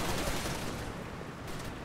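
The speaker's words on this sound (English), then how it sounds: "Thank you for shooting at my Jeep again." Gunfire pelting a Jeep in Far Cry 2, a steady loud rattle of rapid shots and impacts that fills the whole short moment with no clear break.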